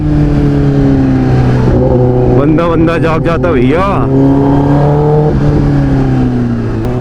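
A 2023 Kawasaki ZX-10R idles loudly, then gives a burst of sharp throttle blips before settling back to a deep rumbling idle, heard close up under brief talk.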